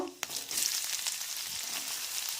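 Black cumin and fennel seeds frying in hot oil give a steady close sizzle after one sharp clack at the start, with light stirring through the hiss.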